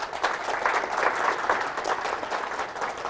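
Steady, dense applause from a lecture audience honoring a speaker's newly earned doctorate, a continuous wash of many hands clapping at even volume throughout.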